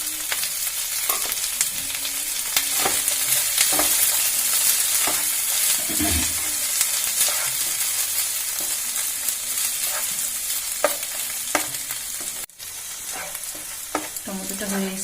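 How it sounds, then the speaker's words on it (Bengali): Onion and tomato frying together in a pan for an Indian egg and mixed-lentil dal, with a steady close sizzle broken by repeated scraping stirs of a spatula against the pan, and no talking. "পেঁয়াজ টমেটো একসঙ্গে কষানো হয়ে গেছে"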